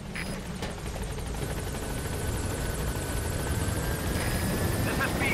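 Helicopter arriving in the video game Metal Gear Solid V: The Phantom Pain, a steady rotor thrum and engine whine building slightly over several seconds, fairly close, with faint game sounds.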